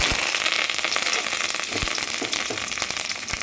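Fennel seeds fry in a little hot oil in a kadai, giving a steady close sizzle with scattered sharp pops and crackles throughout, without speech.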